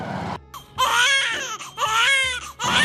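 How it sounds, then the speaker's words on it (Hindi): An infant cries in a Haryanvi family drama, with loud, wavering wails in repeated bursts separated by brief breaths, close and continuous across the stretch. "बालक रोने की आवाज आओ है।"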